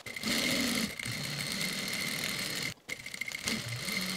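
A sewing machine runs steadily while stitching a half-inch hem on lightweight summer shorts, a close, continuous mechanical whir with a brief pause near the end before it resumes.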